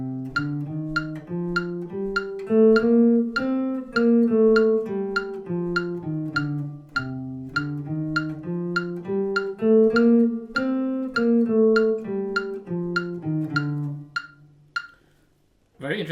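A C Dorian scale played as clear, pitched melodic notes that step up and then back down over a steady, ticking pulse, with the line and the beat going on together for about fourteen seconds.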